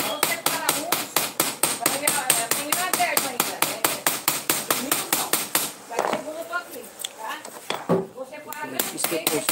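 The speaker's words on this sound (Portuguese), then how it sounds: "Faz umas pancadinhas de leve aqui, porque ela tá torta, essa cabecinha dela aqui" Light hammer taps land on a bent scissor head to straighten it, a rapid, even series of close metallic knocks that grows irregular near the end, with someone talking over the tapping.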